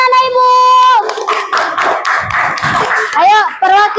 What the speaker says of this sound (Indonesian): tepuk tangan anak Ibu